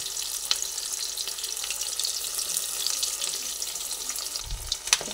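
Prawn-stuffed flat beans fry in oil in a pan, a quiet steady sizzle with soft crackles and a brief low bump of the pan near the end.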